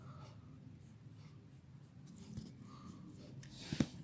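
A pencil sketches the inner rim of a motorbike tire, producing soft, steady scratching strokes at close range with no talk, ending in a couple of sharper taps.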